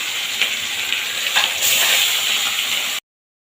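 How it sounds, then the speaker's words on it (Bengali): Pomfret and phasa fish fry in well-heated oil, giving a loud, close, continuous sizzle with crackling swells that stops abruptly after about three seconds. "তেলটা খুব ভালোভাবে গরম হয়ে গেছে আগে ফেঁসা মাছটা ভেজে নেবো"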